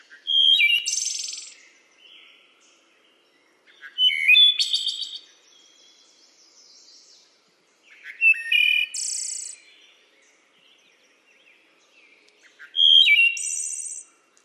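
Wood thrush song: four separate phrases spaced a few seconds apart, each a fluting, flute-like series of notes ending in a high trill, clear and alone against a silent background.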